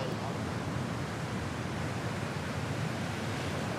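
Heavy surf breaks at Banzai Pipeline on Oahu's shore, a continuous loud roar of churning whitewater and rushing foam filling the whole stretch without pause.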